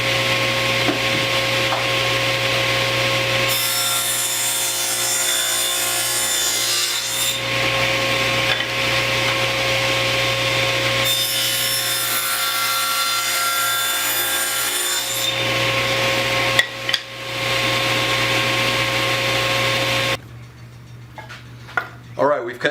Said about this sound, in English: we've cut 2 pieces of stock that are 7/8 of an inch wide by 3/4 of an inch